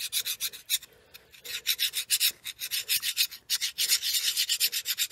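Metal file deburring a lift handle clutch part, rasping in quick repeated strokes with short gaps, close up and fairly quiet, with a pause near the one-second mark before the rhythmic scraping resumes.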